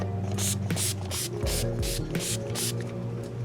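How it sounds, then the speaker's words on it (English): Fender Mist and Wipe Finish Enhancer sprayed onto a guitar in a series of short, crisp hissing bursts, about eight in quick, even succession, close and fairly quiet. "Now I'll spray a little bit of my Fender Mist and Wipe Finish Enhancer on"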